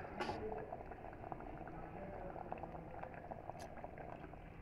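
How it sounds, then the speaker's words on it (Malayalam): A pot of curry bubbles at a low, steady boil with a brief splash as buttermilk goes in near the start, fairly faint and without speech. "നമ്മൾ കറി നന്നായിട്ട് തിളച്ചിട്ടുണ്ട്."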